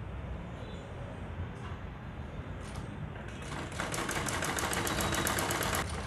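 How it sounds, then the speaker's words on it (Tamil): A sewing machine runs steadily while stitching a folded half-inch hem on a chudidhar, a continuous whirring drone that grows louder and faster toward the end. "கீழே மட்டும் 1/2 இன்ச் மடித்து ஒரு தையல் போட்டுருங்க"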